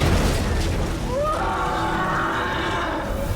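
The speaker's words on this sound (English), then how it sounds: "a very classic iconic moment where the Metal Gear of the game roars" The Shagohod, a huge Metal Gear war machine in Metal Gear Solid Delta, lets out a loud drawn-out roar with a rising, wavering howl over a heavy rumbling bed that lasts several seconds, with no voices over it.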